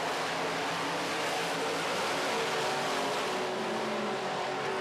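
Midwest Modified race cars roar around a dirt oval late in a feature race, a dense, continuous engine drone filling the track with steady, loud intensity and no voices.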